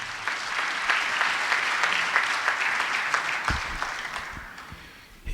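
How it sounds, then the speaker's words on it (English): Sustained applause from a conference audience at a genocide commemoration event in Nairobi, loud and steady throughout before tapering near the end. "Let's give him a round of applause"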